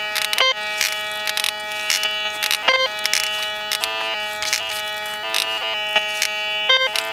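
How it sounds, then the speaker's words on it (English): White's MX Sport metal detector sounding a series of tonal beeps and buzzy threshold tones, rising and dropping in pitch as the coil sweeps, loud and steady with no talking. "Getting some kind of beep going on over here."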